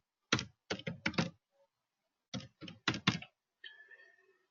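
Close computer keyboard typing while filling in a form comes in two quick clusters of sharp keystrokes separated by a short pause, followed by faint background noise, with no talk.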